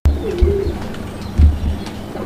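A Desi Raj Golla pigeon coos close by in a few deep, rhythmic bursts, with faint chirps and soft background noise between calls.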